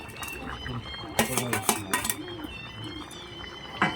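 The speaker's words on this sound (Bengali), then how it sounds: "সেই মাছগুলো আমি ঝোলের মধ্যে দিয়ে দিচ্ছি।" Fried fish slid one by one into simmering fish curry, with metal utensils clinking against the pot in a few short bursts over steady low kitchen noise.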